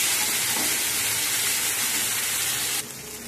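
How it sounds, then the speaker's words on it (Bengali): Ginger paste stirred into a sizzling mixture in a frying pan while cooking prawns with cauliflower; a steady, close sizzle and hiss runs throughout, then softens abruptly just before the end. "দেওয়ার পর সব একসাথে আরো ভালোভাবে নাড়াচাড়া করে মিশিয়ে নেব"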